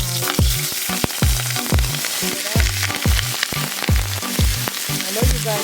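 Peppers, onions and scotch bonnet hit a hot smoking pan for ackee and saltfish, a loud sizzle with repeated rhythmic scraping and knocking of a utensil stirring them close by, no talking.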